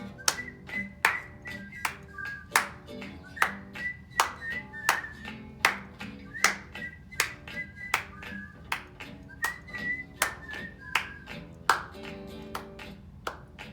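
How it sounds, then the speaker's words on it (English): Children at a library storytime clap their hands in steady rhythm along to a song, the sharp claps landing about twice per second over a light, whistly melody. "Clap your hands."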